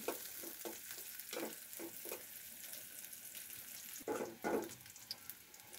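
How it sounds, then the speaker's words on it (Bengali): Chopped onion frying with spices for a coconut chana dal, a soft continuous sizzle with a spatula scraping and stirring at intervals, faint and close, with a couple of louder stirs near the end. "মশলাটার সাথে পেঁয়াজটা একটু লাল করে ভেজে নেব।"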